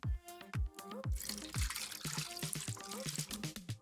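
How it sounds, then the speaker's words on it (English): Liquid being poured into bottles through funnels, oil in one and water in the other, with close gurgling, glugging and dripping that carries on steadily throughout, alone without speech. "We fill one with oil and one with water."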